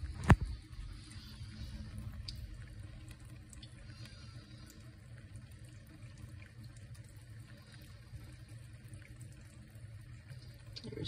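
Tap water runs steadily into a container for a pet on a kitchen counter, a continuous moderate splashing stream with a brief clack near the start.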